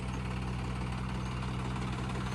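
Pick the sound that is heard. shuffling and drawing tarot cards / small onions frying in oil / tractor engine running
tractor engine running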